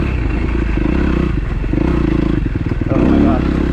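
A rebuilt 2012 Kawasaki KX250F dirt bike rides after a full rebuild, its engine droning and revving loudly with clatter and scraping, rising toward the end.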